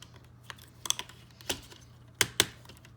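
Plastic pieces of a Transformers Studio Series 55 Leader Class Scavenger figure being folded and clicked into place, a scattering of sharp close clicks and taps with a few louder snaps near the end.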